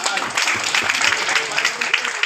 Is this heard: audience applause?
yes